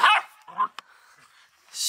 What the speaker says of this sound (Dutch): Beetje lopen blaffen naar mij.